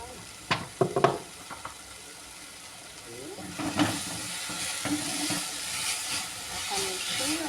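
Chicken pie filling gets stirred in a hot pan while making gluten- and lactose-free empadinhas, with scraping spoon knocks early on and a steady sizzle and hiss underneath, close and moderately loud.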